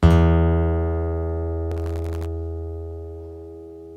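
A single stringed-instrument note rings out strong and rich with overtones and slowly fades over several seconds, with a brief buzzy rattle partway through.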